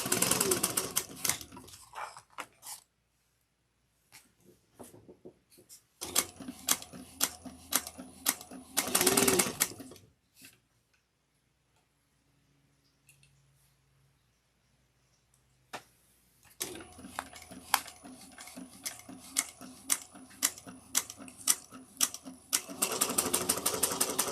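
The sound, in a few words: sewing machine backstitching a handbag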